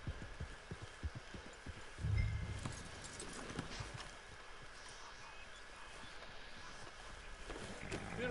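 In the video game Red Dead Redemption 2 Online, rhythmic hoofbeats of a horse clip-clop steadily at a moderate pace, with a heavier thump partway through and a continuous background ambience.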